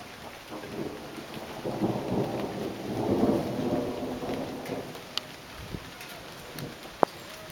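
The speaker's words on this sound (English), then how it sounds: "I hope it pours down with rain. Get a nice thunder shower," A thunderstorm on Salt Spring Island, Canada, with rolling thunder swelling and fading over steady rain, and a few sharp drips and knocks near the end, no talking.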